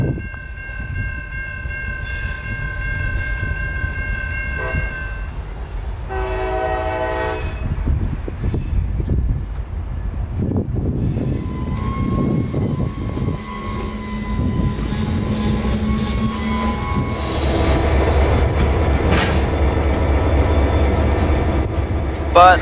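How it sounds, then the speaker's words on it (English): CSX train Y103 rolling past near Tampa, Florida, with loud horn blasts over a rumbling locomotive and wagons, a continuous close pass with a faint voice at one point. "This would be CSX train Y103 returning from Sutton Siding after working a few industries down there and heading"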